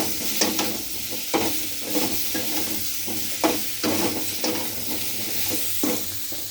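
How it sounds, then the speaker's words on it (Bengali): Spoon stirring chili powder into a Bengali sole and koi fish curry with potato, plantain and kohlrabi greens in a pan, a steady sizzle under repeated scraping strokes, close and moderately loud. "এই ঝালের গুঁড়োটা দিয়ে আমি একটু নাড়াচাড়া করে নিচ্ছি"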